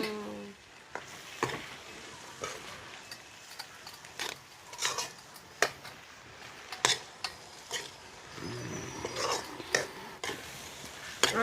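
Fried meat is stirred into a pan in a home kitchen: repeated spoon scrapes and taps sound over a low, quiet sizzle, with no one speaking.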